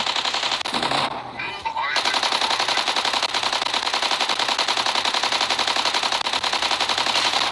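Mech gunfire barrage in Mech Arena, a loud, steady stream of rapid machine-gun shots that runs nearly the whole time, with a brief voice near the start.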